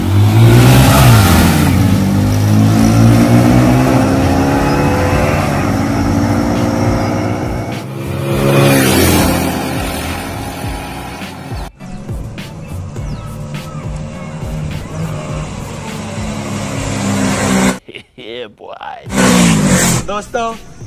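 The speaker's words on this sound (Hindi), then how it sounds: "दोस्तों ये स्प्लेंडर बाइक थी आयुष की और ये बाइक जीत चुकी है।" Hero Splendor and Honda CD110 motorcycles in a drag race: loud engines rev and roar continuously, pitch rising as they accelerate, then wind noise and a few sharp bursts near the end.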